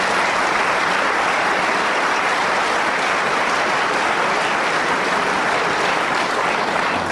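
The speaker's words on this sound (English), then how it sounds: "Jimmy getting deserved applause there" A snooker crowd at the 1990 world final applauds Jimmy White, loud sustained clapping filling the whole stretch without letting up.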